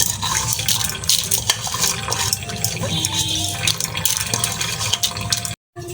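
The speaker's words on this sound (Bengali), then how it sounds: "নিচ দিয়ে জলটা ঝরে ঝরে পড়ে যাবে" Water drains and drips through a kitchen strainer while homemade baby cereal grains are being rinsed, a close, continuous splashing trickle with a brief silent gap near the end.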